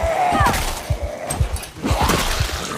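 Gunfire in the Project Zomboid video game: several sharp shots in quick succession at moderate loudness, with other game noises in between.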